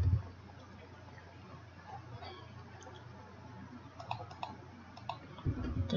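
Computer mouse clicks while drafting in AutoCAD, scattered single and double clicks sounding faint and close over a low background hum, with someone speaking around them.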